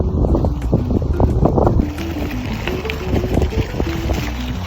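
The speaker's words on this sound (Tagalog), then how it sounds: "Lakas ng hangin lakas ng hangin." Strong wind in Japan buffets the microphone in loud, rumbling gusts, with a motor droning underneath and no one speaking.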